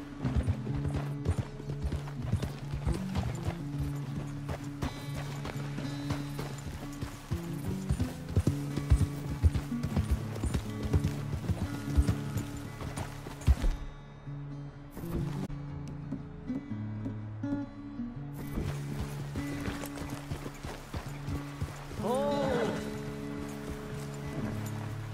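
Horse hooves trot steadily in Red Dead Redemption 2, a rhythmic clip-clop running under game music and ambience, with a brief drop-out midway and a short whinny-like rise near the end.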